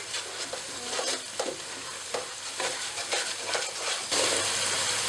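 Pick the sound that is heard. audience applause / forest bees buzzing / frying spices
frying spices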